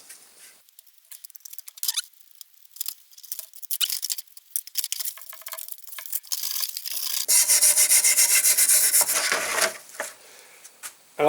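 A wire brush scrubbing an engine oil pressure switch from a 1955 Panhard Dyna Z1, close and scratchy, in short irregular rubbing strokes, then a louder sustained stretch of fast scrubbing near the end.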